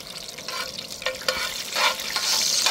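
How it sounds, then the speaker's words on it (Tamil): Cashews frying in coconut oil in a pan, a steady soft sizzle with stirring scrapes and a few brief clatters, close and continuous without talk. "நம்ம ஒரு ஏந்தல் சட்டியில் தேங்காய் எண்ணெயில் முந்திரி திராட்சையை வறுத்து எடுத்துக்கிறோம்"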